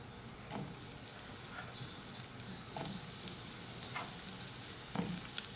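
Eggplant frying in a pan with ajwain gives a quiet, steady sizzle with occasional soft stirring scrapes and light pops, with no one talking.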